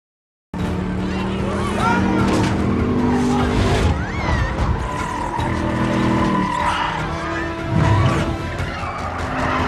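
A speeding car engine roars loudly while tires squeal and skid in long, wavering screeches, continuous and close for the whole stretch.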